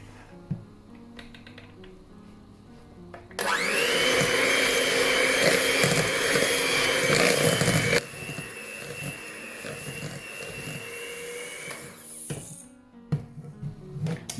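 An electric mixer beats butter cake batter after an egg is added, a loud steady whirring that starts abruptly, runs a few seconds, then drops to a lower, quieter speed before stopping.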